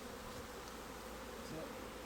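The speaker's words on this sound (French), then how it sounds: "Gros mâle, petite abeille." A male honeybee drone buzzing steadily and faintly near a beekeeper's hive, a low continuous drone with no talk over it.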